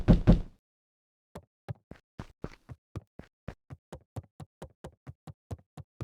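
Knocking on the front door in Beacon Pines (video game): after a loud opening thump, a long run of sharp, evenly spaced raps continues alone, with no talk.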